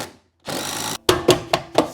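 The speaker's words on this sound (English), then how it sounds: "I just got this impact drill." Impact drill driving large screws into the base of a home battery during an inverter installation: a sustained motor whir, then four sharp rhythmic hammering bursts close up, with no talking.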